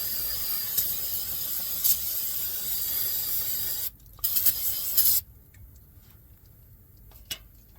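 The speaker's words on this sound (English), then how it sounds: "Now I'm gonna take me some brake cleaner. Clean all this mess up." Brake cleaner sprayed onto the rear brakes of a 2012 Silverado 3500HD truck, a loud aerosol hiss in sustained bursts that cuts off abruptly, then returns in short spurts with faint ticks in the quiet gaps.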